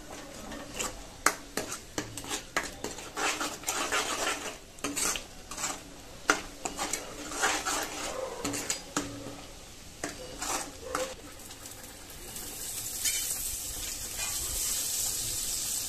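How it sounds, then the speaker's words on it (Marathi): Masala for egg curry is sautéed in oil, with repeated scraping and clanking of a spatula against the pan over a soft sizzle, giving way to a louder, steady hiss of frying near the end. "याला चांगलं एक तेल सुटेपर्यंत थोडंसं चांगलं परतून घेऊया।"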